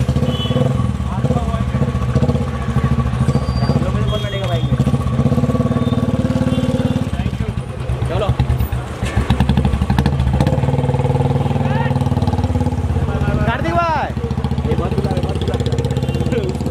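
A motorcycle engine runs steadily at a close, loud idle throughout, under lively chatter and calls from a crowd of people.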